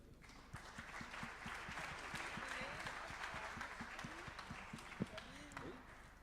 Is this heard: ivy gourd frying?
no